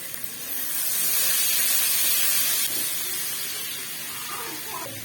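Chopped onion dropped into hot oil with ajwain frying in a pan for green chilli arvi katli, giving a broad, steady hiss and sizzle that stays loud throughout and eases slightly toward the end.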